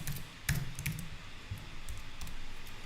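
Keys clatter on a computer keyboard in short irregular bursts of close clicks, with quiet gaps between the bursts and no talk.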